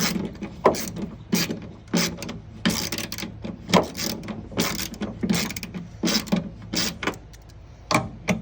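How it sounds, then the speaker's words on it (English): Ratchet wrench tightening bolts on a 1965 Ford Mustang, a steady run of sharp, close clicking bursts in quick repeated strokes with brief pauses between them, no talking. "Grab a ratchet or a wrench. Just make sure to switch it around. And just tighten it up."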